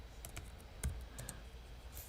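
Quiet keys click on a computer keyboard, a few irregular taps close by against a soft background hiss, with no talking.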